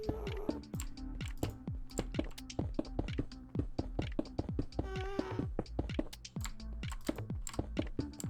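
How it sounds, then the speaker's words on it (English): Rapid computer keyboard typing, dense irregular clicks and key taps continuing steadily and close up throughout, with no talking, during a live Minecraft build session. "Josh Seegers, all I hear is the goddamn keyboard."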